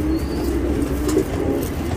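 Pigeons in a loft kept with hundreds of birds coo close by, low rolling coos overlapping continuously with no talk.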